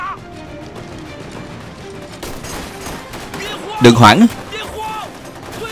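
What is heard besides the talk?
gunfire in a war film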